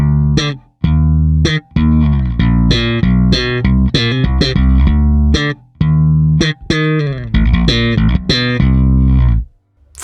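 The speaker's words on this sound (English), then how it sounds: "using the FET compressor to even out the slap playing between the thumbs, the plucks, the ghost notes, and so on" Slap bass guitar runs through the FET compressor on a Darkglass Anagram set to a 4:1 ratio and full blend, giving fast, punchy thumb slaps, plucks and ghost notes in even, loud bursts with brief pauses.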